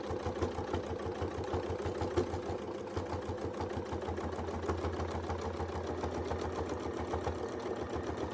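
A sewing machine doing free-motion stitching on a quilting project runs steadily at close range, its needle hammering in a fast, even rhythm that holds throughout with no talking.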